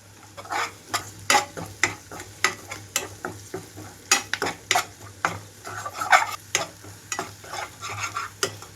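Ginger, garlic and curry leaves frying in a pan, with a steady oily sizzle under repeated scraping and stirring strokes of a spoon against the pan, close and moderately loud, no talk.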